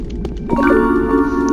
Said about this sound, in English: That sound you hear right there means secret.